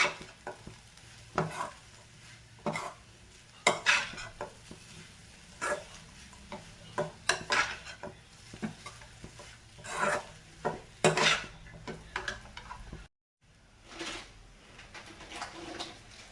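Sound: stirring and mixing chapati noodles in a pan

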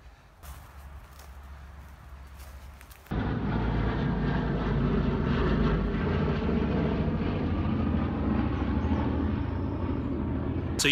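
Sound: vintage B-17 bomber Memphis Belle flying over

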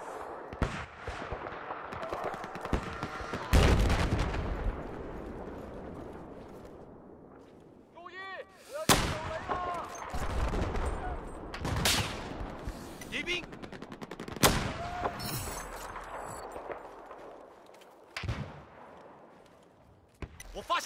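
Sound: machine gun fire in video game Battlefield 4

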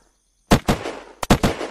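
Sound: gunshot from a gun in the video game Unturned

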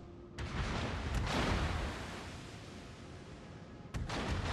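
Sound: warship guns firing in World of Warships video game

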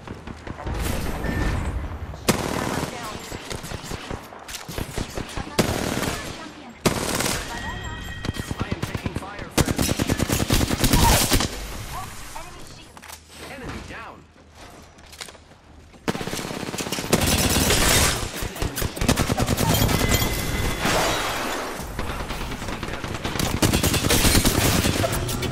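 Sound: gunfire in Apex Legends video game

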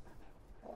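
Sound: dogs in DayZ video game

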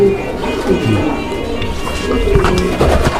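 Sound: pigeon cooing

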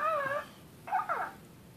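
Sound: Hatchimal toy making its usual noise

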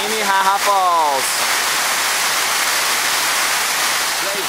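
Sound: waterfall

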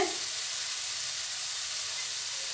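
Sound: chana masala spices and onion sizzling while sautéed

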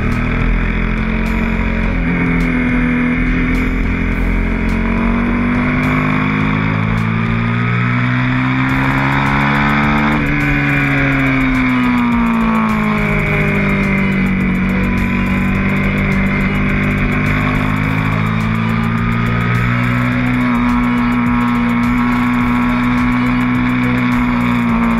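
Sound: Aprilia Shiver 750 motorcycle engine revving

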